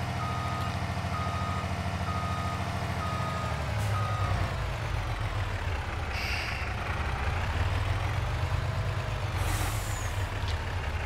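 Steady truck reversing beeps repeat over a loud idling engine with hissing air-brake bursts as a truck backs up in the Farming Simulator 22 video game, with no one talking.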